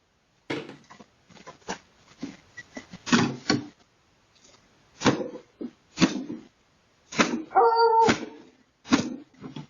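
A rescued dog makes reactive noises in short bursts: yips, grumbles and whimpers, with one drawn-out whining cry, close and fairly quiet with silent gaps between bursts.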